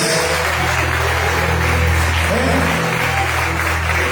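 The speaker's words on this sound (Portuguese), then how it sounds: "Você pode aplaudir a Jesus pela vida de vocês?" A church congregation applauds during a celebration service, with a dense, continuous wash of clapping over a low steady hum from the sound system.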